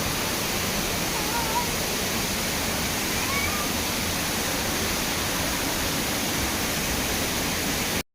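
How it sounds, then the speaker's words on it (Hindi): A waterfall in Mussoorie rushes in a dense, unbroken roar of falling water, loud and close and steady throughout. "यहाँ पे झरना बह रहा था"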